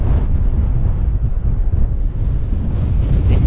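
Wind buffeting a microphone on a hilltop at the Wild Horse Wind Farm on Whiskey Dick Mountain, a loud, continuous low roar that swells and dips without pause.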